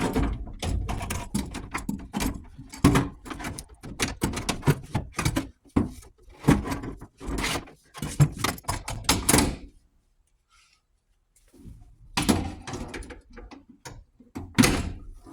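A door panel on a Ford F truck is pushed back into place with a rapid series of plastic clicks, thumps and knocks, a quiet gap, and then more firm snaps and bumps close by.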